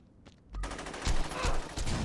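Gunfire in Saints Row 2 rattles in rapid bursts, loud and dense for about a second and a half and pressing close, following a few faint sounds.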